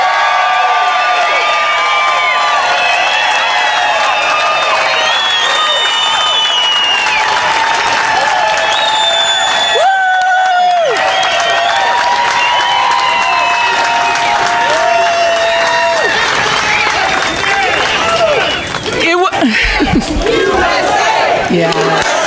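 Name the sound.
crowd cheering and applauding at a rally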